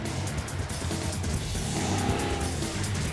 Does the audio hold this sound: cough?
no